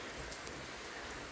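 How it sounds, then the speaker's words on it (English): Steady rain falling outdoors in the evening, a soft even hiss of drops on surfaces, continuous and fairly faint with no voices. "it's still raining"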